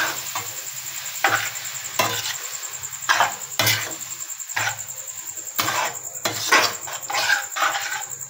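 Egg noodles and a fried egg are stirred and tossed together in a pan in a village kitchen, with irregular scraping and clattering strokes of a utensil against the metal over a faint background hiss.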